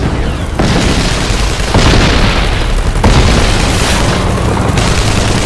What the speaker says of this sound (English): It is the signal to detonate dynamite and blast holes in the